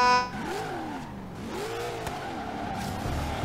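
Ford Mustang race car engine in the Forza Horizon 3 video game, a steady mid-pitched drone that rises and falls in two revving sweeps with faint tire noise, heard up close with no talking.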